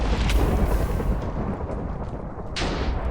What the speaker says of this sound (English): I'm not scared of lightning.